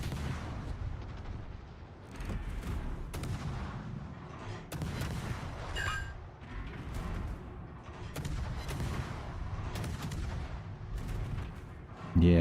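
Repeated heavy naval gun salvos from World of Warships, booming blasts with long rolling tails recurring every second or two over a steady battle rumble, fairly loud throughout.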